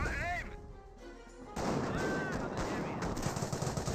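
Gunfire crackles from a Company of Heroes real-time strategy battle: rapid bursts and distant booms in a dense wartime din, with a commentator talking over it.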